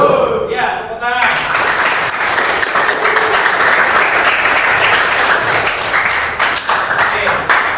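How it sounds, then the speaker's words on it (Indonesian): School audience at an SMK 3 opening session bursts into loud, sustained applause right after a speaking voice, dense clapping holding strong to the end. "Ya, tepuk tangan."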